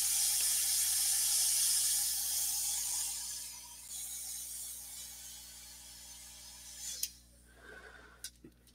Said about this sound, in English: Let me hit it real quick with a hair dryer.